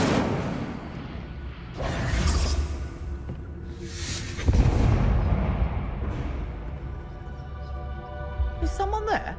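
Incendio fire spell cast in Hogwarts Legacy, a few whooshing bursts of flame with low booming swells, spaced a couple of seconds apart, with a voice speaking between them and brief chimes at the end.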